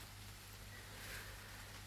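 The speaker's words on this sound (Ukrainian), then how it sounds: "на ганочку і послухати шум дощу." Steady rain heard from a porch on a morning with roses in bloom, a soft, even, continuous hiss that sounds faint and far off.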